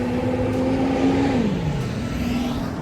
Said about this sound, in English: Hold on, let this truck get by.